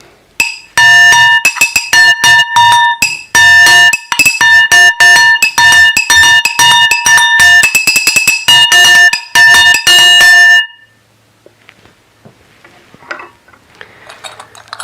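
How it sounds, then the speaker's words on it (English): Atarigane, a small circular brass gong struck with a mallet, rings out in fast, bright, metallic strikes in a lively rhythm, close and loud, then stops and leaves faint soft tapping. "It is a small circular brass gong that is used with a mallet to produce different sounds hitting different areas of the atarigane."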